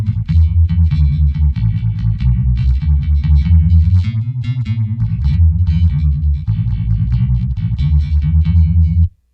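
With its onboard effect turned down slightly from maximum, an Electra MPC Outlaw X-620 bass plays a steady line of fuzzy, modulated low notes, loud and unbroken, before stopping abruptly near the end.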